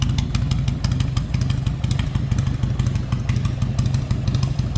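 A 1999 Harley-Davidson Heritage Springer motorcycle engine runs close by with a loud, steady, loping rumble, its rhythmic exhaust pulses continuing without pause.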